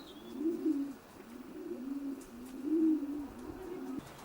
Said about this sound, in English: We've come on now to the national winning loft of Burgham Brothers.